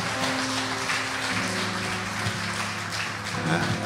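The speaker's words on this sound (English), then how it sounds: "Give them another round of applause" Sustained applause from a church congregation for a choir at a funeral service, dense and steady clapping filling the room throughout with a faint murmur underneath.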